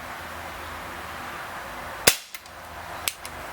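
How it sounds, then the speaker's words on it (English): Two sharp, loud shots from an Umarex Beretta 90two CO2 BB pistol running on slightly used CO2, each a crisp pop about a second apart, with faint lighter clicks trailing after them against a low steady background. "So we're going to shoot 5 rounds and see how well we do."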